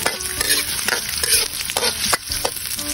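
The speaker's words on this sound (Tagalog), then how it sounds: "Unahin muna natin i-gisa ang ating luya. Mainit na rin ang ating mantika." Ginger sautéing in hot cooking oil, a steady sizzle broken by the scrape and clatter of stirring, close and fairly loud throughout with no talking.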